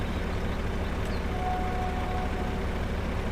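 A diesel truck engine idles steadily in Farming Simulator 25, a constant low droning rumble with a faint high tone briefly above it.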